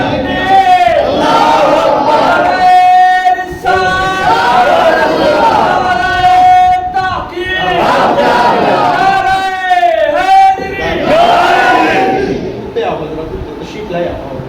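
A crowd at a religious gathering honoring Imam Hussain chants slogans in loud, unified call-and-response bursts, voices swelling together in several waves, close and forceful, with a lead voice calling between them.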